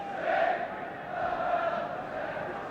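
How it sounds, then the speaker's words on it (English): Big, noisy football crowd at Liverpool's stadium during a 1982 Division One match against Watford, a steady roar of massed voices swelling and easing slightly throughout, with no clear single voices standing out. "Big and noisy crowd."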